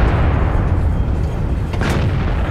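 Tank cannon fire in the game World of Tanks, a heavy booming blast with a rumbling low-end tail that stays loud, and no talking over it.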